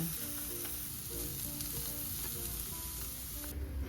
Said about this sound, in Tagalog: So ngayon baligtarin na rin natin yung ating steak.